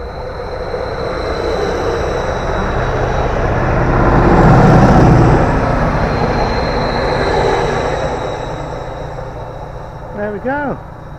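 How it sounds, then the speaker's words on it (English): Broad, steady roar of helicopters passing overhead outdoors near a campsite, swelling to a peak midway then easing off, with a brief voice near the end. "Helicopters coming over, that's what that noise is."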